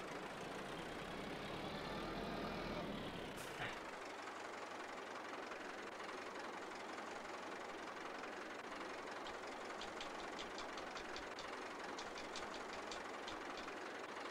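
A tractor engine running steadily with a low rumble and faint knocking, continuous and fairly distant, on a Wyoming farm, with a brief sharp transient early on.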